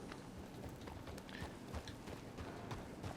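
A horse's hooves clip-clop at a steady walking pace in the video game Harmony Meadows, with close, even, rhythmic footfalls and no talk.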